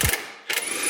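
Wrench working a bolt loose on an EF Honda Civic Si during a drop fork install, two quick ratcheting clicks close by, separated by a short pause.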